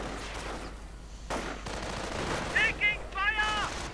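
Rapid MG42 machine-gun bursts and sniper shots crackle in a World War II strategy video game, with someone talking over the gunfire.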